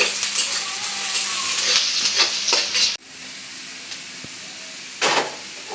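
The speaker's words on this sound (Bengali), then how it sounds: "পেঁয়াজ কুচি রসুন পেঁয়াজ বাদামি করে ভেজে বাগাটা দিব" Chopped onion and garlic fry until brown, sizzling loudly with bright crackle and stirring at close range, then quieter frying with a few spoon clinks and a brief hissing burst.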